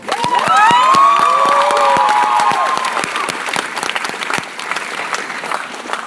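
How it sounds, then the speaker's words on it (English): A high school graduation crowd at a commencement breaks into loud applause with whoops and whistles, rising sharply at first and then settling into sustained clapping that slowly fades. "You should have applauded right there."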